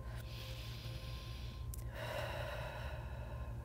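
Soft, slow inhaling and exhaling of a deep breath during a yoga session, faint and close against a steady low background hum.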